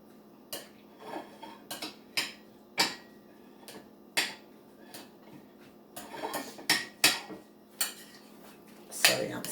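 A salad with raisins and pecans being stirred in a bowl, a run of irregular clinks and knocks from utensils striking the dish, close and fairly quiet, with brief pauses between bursts and no voices.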